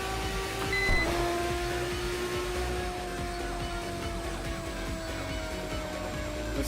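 A V10 engine in an Integra in the racing game Tokyo Xtreme Racer, its whiny, vacuum-cleaner-like drone holding a steady, nearly constant pitch with a slight rise throughout, loud and close with no voices.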